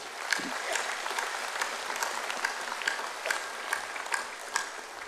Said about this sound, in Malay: saya ingin tuan-tuan memberikan tepukan kepada pihak urus setia ya